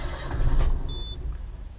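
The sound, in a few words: car engine firing while trying to start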